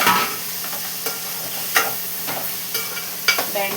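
Okra and tomato curry sizzles steadily in a pan while a spoon scrapes and stirs it in regular strokes, with clacks at intervals of about half a second to a second, close up with no voices.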